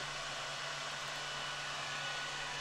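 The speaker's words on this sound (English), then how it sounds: "classic hairdryer" A steady, broadband whooshing hum of a hair dryer running continuously, with a faint low tonal drone underneath, no voices.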